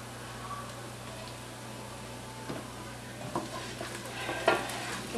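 Garlic frying in a pan for a red sauce sizzles faintly under a steady low hum, with a few soft scrapes and clinks of stirring growing more frequent toward the end.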